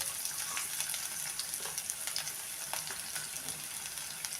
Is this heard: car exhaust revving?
no